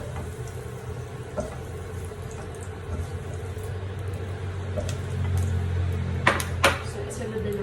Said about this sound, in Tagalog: Haluin muna natin saglit. Yung ating hot dogs.